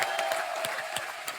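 Studio audience at a comedy show clapping steadily, a dense, bright wash of applause with a rhythmic pulse throughout the short stretch.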